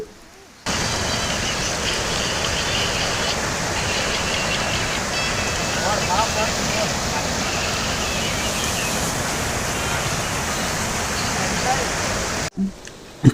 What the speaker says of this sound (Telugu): నీళ్ళు అయితే చాలా స్పీడ్గా వస్తున్నాయి చాలా అంటే చాలా స్పీడ్గా వస్తున్నాయి సౌండ్ కూడా భారీగా అయితే వస్తుండే నీళ్ళు